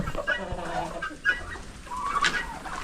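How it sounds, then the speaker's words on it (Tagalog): Laying hens cluck in a coop, several close, irregular clucks and short calls overlapping across the stretch with faint farmyard background. "Oh, dami nangingitlog na manok ngayon."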